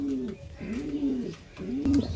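A pigeon coos close by, giving three low, throaty rolling calls in a steady rhythm with short pauses between them.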